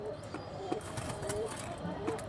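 Domestic pigeons coo softly in repeated low, throaty calls, fairly faint and close by with a light background hum.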